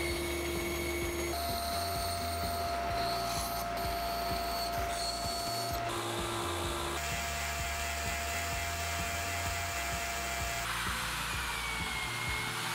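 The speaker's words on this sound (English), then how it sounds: "I'll use the bandsaw to make the four big knobs I need." A homemade band saw cuts wooden knobs with a steady, close motor whine and a fine rasping blade noise that runs continuously, shifting slightly in pitch as the wood is fed.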